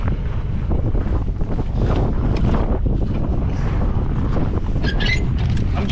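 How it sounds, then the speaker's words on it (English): Loud, constant wind on open ice in sub-zero cold buffeting the microphone with a heavy low roar and gusty rumble, no voices heard. "Very windy."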